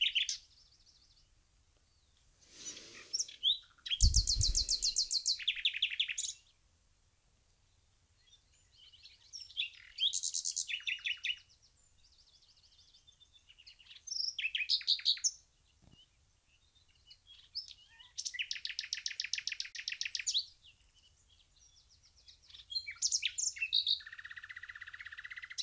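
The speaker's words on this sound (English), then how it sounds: "I really want to do this together with the nightingales and the other birds" Nightingales and other birds sing at the start of a new day: bright, separate bursts of warbling and chirping with quiet gaps between phrases, fairly faint and unhurried.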